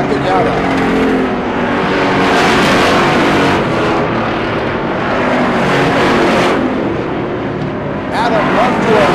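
Race cars roar around a short track during a stock car race. Engines drone loudly and continuously, swelling as cars pass, under a commentator's steady play-by-play.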